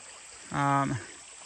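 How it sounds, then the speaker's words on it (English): Spring Creek on the Ozark Highlands Trail flows as a steady, soft hiss of moving water, briefly overlapped by a short voice sound in the middle. "So this is Spring Creek. Really good water."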